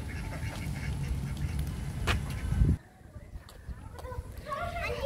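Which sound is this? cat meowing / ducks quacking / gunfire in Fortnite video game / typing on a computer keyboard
ducks quacking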